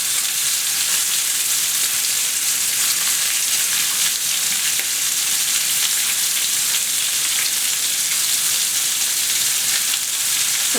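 Shrimp fry in a pan, turning white and curling, giving a steady, loud, dense sizzle that runs unbroken throughout with no voices.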